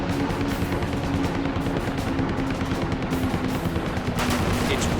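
Sustained rapid machine gun fire from a WWII Hellcat fighter plane chasing a diving Japanese Zero, a dense continuous rattle under a steady engine drone, loud throughout.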